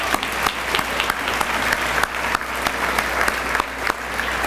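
A university senior banquet crowd claps steadily and enthusiastically, dense applause with a few sharper individual claps standing out, sustained throughout at moderate volume.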